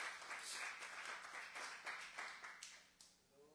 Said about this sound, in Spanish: Qué aplauso tan aguado,